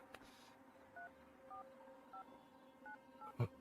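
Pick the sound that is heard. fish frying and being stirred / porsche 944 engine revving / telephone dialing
telephone dialing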